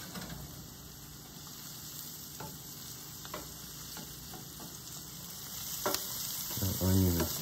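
Celery, onion and shallot sautéing in a pan, a continuous soft sizzle with occasional stirring scrapes and taps, close up; a voice briefly intrudes at the very end.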